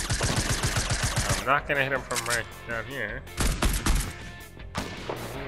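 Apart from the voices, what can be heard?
gunfire in the video game Fortnite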